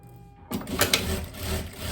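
Sewing machine running a seam on a long eyelet-lace dress with elastic inside, starting abruptly after a near-silent pause and continuing as a steady mechanical whir with a few sharper clacks.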